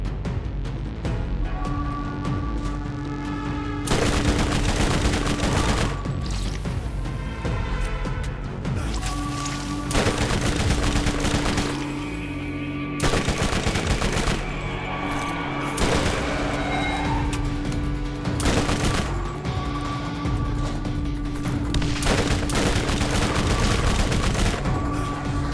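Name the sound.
SMG gunfire and grenades in video game Borderlands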